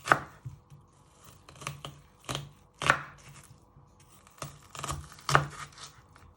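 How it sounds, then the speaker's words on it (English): A knife chops an onion on a cutting board, giving sharp, irregular thuds spaced about half a second to a second apart, close and fairly quiet in an otherwise still kitchen. "as you're chopping your onion"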